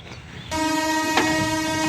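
A train's horn blares loud and sustained, cutting in abruptly over rumbling rail noise, with a brief louder burst partway through.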